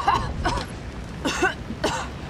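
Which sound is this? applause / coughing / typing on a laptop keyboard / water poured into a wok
coughing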